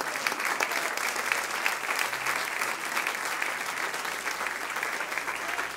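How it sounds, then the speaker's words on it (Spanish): A church congregation at a Friday evening service claps together in steady, full applause that sustains evenly for several seconds, with some voices faintly mixed in. "Le damos un aplauso a él"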